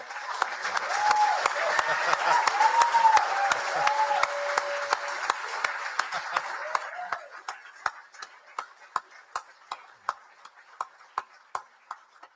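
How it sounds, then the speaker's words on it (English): Crowd applause at an Edmund Fitzgerald memorial service, a dense clapping wash with faint tones and voices that fades after about seven seconds, leaving a few sparse, evenly spaced claps. "let's give them a round of applause as well"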